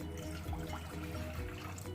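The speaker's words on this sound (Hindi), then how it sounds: "अब हम इसमें डालेंगे 1 गिलास पानी," A glass of water poured into a cooking pot for a home cold remedy: a short, faint, continuous trickling pour over a low background hum.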